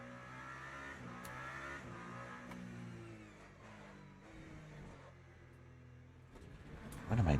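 A Toyota GR010 hypercar in a Le Mans Ultimate race at Spa, the engine droning and shifting pitch as it accelerates and eases off, moderately loud and continuous, with a sharp louder burst at the very end.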